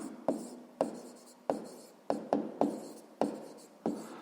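A pen or pencil scratches on paper while a sixth-grade math exercise is written out, a series of about eight short, distinct strokes at an uneven rhythm, close and quiet with no talking.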